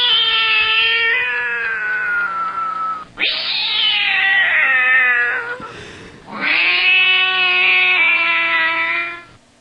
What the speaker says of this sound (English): The cats are screeching.